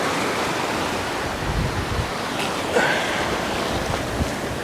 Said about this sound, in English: Oh, that wind is blowing good.